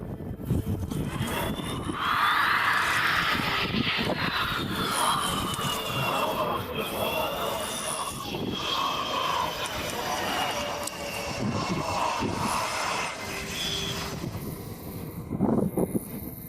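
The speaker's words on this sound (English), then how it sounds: "During a military air show, this fighter jet nearly crashed after the pilot oversteered right after landing." A fighter jet at a military air show roars steadily through the whole stretch, its engine whine sweeping up and down as it comes in to land, loud and continuous with crowd noise underneath.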